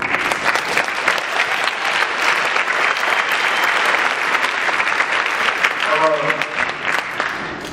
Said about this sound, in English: I'd like to give them a round of applause as well.